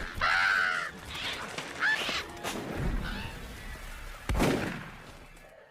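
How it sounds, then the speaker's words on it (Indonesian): A flock of crows cawing harshly as they attack, several loud close caws and squawks in quick bursts with brief gaps, plus a few sharp thuds. "teror dari sekelompok burung gagak masih berlanjut, malahan mereka menyerang Roy."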